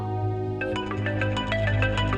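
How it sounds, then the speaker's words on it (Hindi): A musical phone ringtone plays a repeating melodic pattern over a steady low hum, fairly loud and close, with no talking. "अम्मी के नंबर से फोन आ रहा है।"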